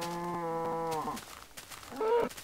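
Cows in the video game Minecraft moo: one long, loud low moo, then a shorter second moo after a quiet gap, close and clear with no talk over them.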